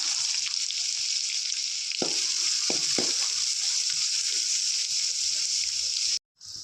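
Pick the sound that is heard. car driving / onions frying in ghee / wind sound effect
onions frying in ghee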